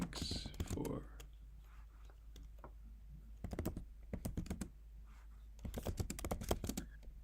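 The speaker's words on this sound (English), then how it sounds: "I'm gonna type in thanks for." Typing on a computer keyboard, quick clusters of clicky keystrokes in several short bursts, close and fairly quiet, with a brief murmured voice at the start.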